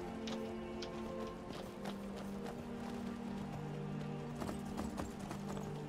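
Hooves clip-clop in a steady trot as a horse is ridden in the video game Skyrim, rhythmic and fairly close over a low tonal hum of background music, with no voices.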